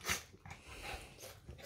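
A dog at close range, with short snorting breaths, sniffs and soft vocal bursts across a brief quiet moment and no speech.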